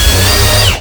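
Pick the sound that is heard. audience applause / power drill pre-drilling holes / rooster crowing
power drill pre-drilling holes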